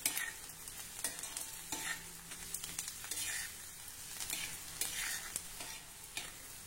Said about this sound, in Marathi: कांदा छान हलक्या तांबूस रंगावर परतून झाला।